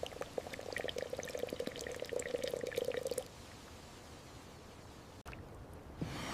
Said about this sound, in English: Carbonated water is added with care.